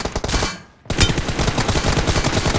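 Rapid automatic gunfire in PUBG Mobile, loud close bursts of shots that stop briefly and then resume in a dense, fast stream.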